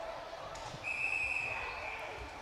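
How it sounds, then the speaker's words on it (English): Referee's whistle blown during a high school ice hockey game, one shrill sustained blast of about a second over arena crowd murmur and rink noise. "And now whistle is blown."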